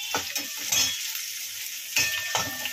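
Finely chopped onion with a little coriander sizzles in hot oil for a potato bhaji, as a spoon scrapes and clanks against the pan in two short bursts over the steady frying hiss.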